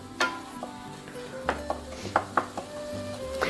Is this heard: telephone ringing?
no